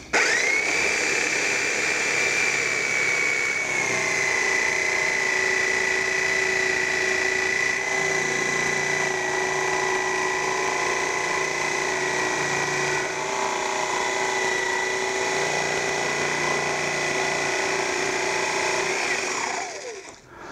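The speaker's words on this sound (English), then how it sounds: "You start with a jigsaw, use files, rasps, whatever it takes." A power jigsaw cuts a hole in a router table piece. It gives a steady, close, continuous whine for about twenty seconds, then cuts off abruptly at the end.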